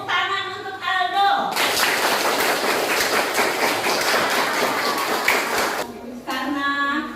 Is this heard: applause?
yes